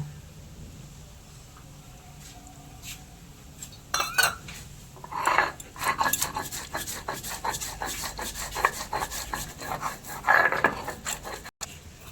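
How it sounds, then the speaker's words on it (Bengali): Poppy seeds and white sesame being ground together into a paste for a sour amra chutney, a rough rubbing and grating that starts softly and then runs in steady, fairly close strokes, with no talking. "1 চামচ পোস্ত আর 1 চামচ সাদা তিল একসাথে বেটে নেব।"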